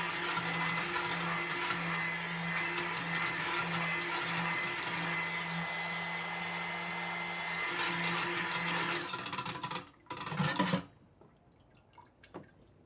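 A blender whirs steadily while mixing a batch of soap batter, running for about nine seconds before cutting off, followed by a couple of short clatters and near-quiet.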